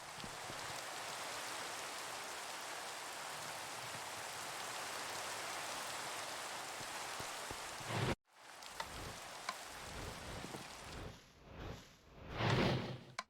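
Steady rain in a Minecraft modpack, a constant hiss of falling drops that runs for about eight seconds, then cuts abruptly to quieter shifting ambience with a few swooshing noises.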